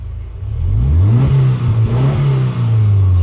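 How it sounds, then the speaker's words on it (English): A car engine fitted with dual MagnaFlow mufflers revs up from idle into a loud, deep, steady rumble close by, with a few brief dips in pitch as the throttle eases and returns. "Immediately you hear a nice deep rumble."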